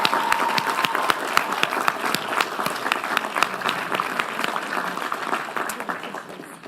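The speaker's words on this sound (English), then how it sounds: "Can we give her another round of applause?" A round of applause at a college commencement ceremony, many individual claps clearly distinct within a lively, fairly close crowd clapping that stays steady and then gradually tapers off.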